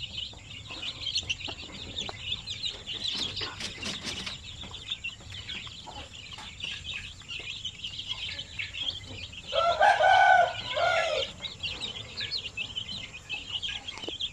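Native zampen chickens with a mother hen and young chicks give scattered clucks and chirps, with a louder crowing call partway through over a constant background din.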